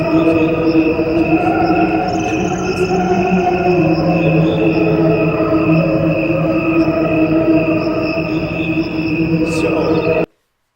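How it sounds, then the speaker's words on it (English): A slowed-down cricket recording: steady, dense chirping with layered sustained tones that continue evenly for about ten seconds, then cut off abruptly into silence. "let's go back to the cricket sound"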